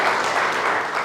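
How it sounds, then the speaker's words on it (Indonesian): Congregation in a church hall applauding the children who served, a dense, steady wash of many hands clapping throughout, with no speech over it. "Boleh berikan tepuk tangan buat anak-anak yang sudah melayani."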